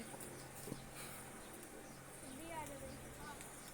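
A pigeon coos faintly and at a distance, with a couple of soft, low calls near the end over a constant outdoor background hiss.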